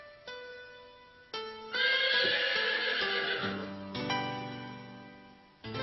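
A horse whinnies with a shrill, wavering neigh that trails downward, set among sustained tonal notes, clear and moderately loud.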